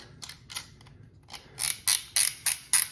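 Metal parts of a Winchester 1907 rifle click and ratchet together during reassembly, with a few soft clicks and then a quick run of five sharp, close mechanical snaps, no talking.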